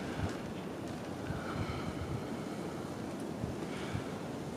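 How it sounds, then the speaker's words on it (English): Strong wind gusts through trees, a broad steady rush that roars close to the microphone with rustling and buffeting. "trees are really blowing"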